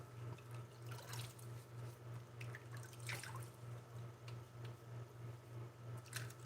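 A razor is rinsed in a sink of water during a wet shave, making soft splashes and drips over a steady low electrical hum, quiet and close, with no talking.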